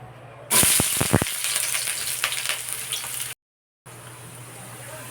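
Garlic and onion sautéing in a hot pan: a loud sizzle bursts in as they hit the oil, with a few sharp clatters at the start, then a steady frying hiss that drops out briefly before resuming.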